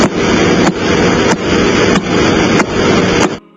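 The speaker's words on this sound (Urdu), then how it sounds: "اس ستارے کا نام پلسر ہے۔ اس کی آواز ناسا کی خلائی تحقیق کے دوران سنی گئی ہے۔" A NASA space recording of a pulsar star gives loud, steady, evenly spaced broadband thumps, about one every two-thirds of a second, like rapid knocking on a door over a dense noisy hiss.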